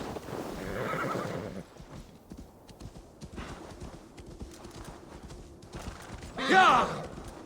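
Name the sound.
horse neighing and hooves in Assassin's Creed Valhalla video game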